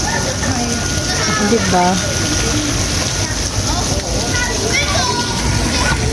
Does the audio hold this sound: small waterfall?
yes